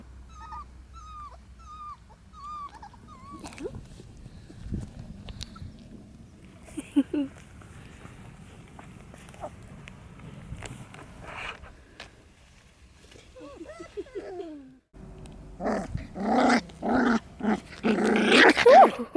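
Puppies let out soft high whimpers and small growls, scattered and faint at first, then a burst of louder scuffling and yips near the end.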